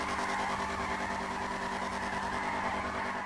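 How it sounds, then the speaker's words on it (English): A Nissan car engine in Forza Horizon 2, a steady, loud droning roar with strong sustained engine tones, held at a constant pitch for a few seconds with no talk. "Just listen to this engine."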